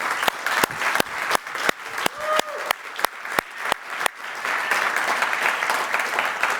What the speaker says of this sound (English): So a round of applause for everybody enjoyed.